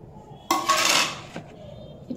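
Chopped capsicum and onion tipped into a mustard-oil paneer marinade, giving one close, loud clatter about a second long before the mixture settles, with no talking.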